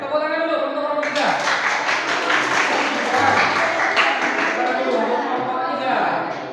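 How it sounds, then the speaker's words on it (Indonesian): A classroom group applauds for group 3 during a computer network and telecommunications engineering practical exam session: a steady patter of many hands clapping for several seconds, fairly close, with voices talking over it. "Tepuk tangan dulu untuk kelompok 3."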